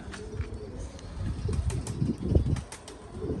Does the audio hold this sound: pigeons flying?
yes